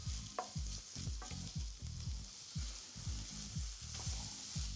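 Tender veal pieces frying in a hot pan, a continuous close sizzle broken by regular rhythmic scraping strokes as the meat is turned and stirred, about ten strokes, no talking.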